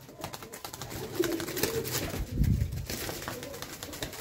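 Teddy pigeons coo in low, throaty bursts against a busy background of rustling and chatter, the cooing swelling midway before fading back into the noise.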